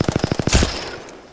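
R99 submachine gun fire in the video game Apex Legends rattles out as a quick, even burst of about seven close shots, then ends in a heavier blast that fades away.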